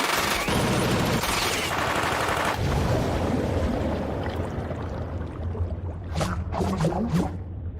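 Anime machine gun fire opens as dense, continuous bursts, then thins into scattered distant shots and a few sharp cracks near the end.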